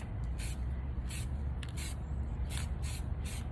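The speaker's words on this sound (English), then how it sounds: "I'm just making sure I spray paint it with that black." Short hissing bursts of black spray paint from an aerosol can coating a tumbler, about six bursts in quick succession over a steady low background rumble, fairly close and no talking.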